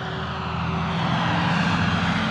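A Flex Innovations RV-8 10E, a 1280 mm electric radio-controlled model plane, passes overhead on its maiden flight with a steady, moderately loud motor-and-propeller drone that swells slightly as it nears.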